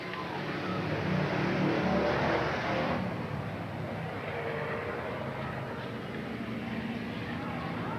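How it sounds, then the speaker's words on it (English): Race cars circle a 1987 Eugene Speedway oval on the final lap, with a continuous engine roar and a swell that rises then eases, heard at a distance beneath a track announcer's commentary. "White flag out for Benny Moore. 1 more lap to go"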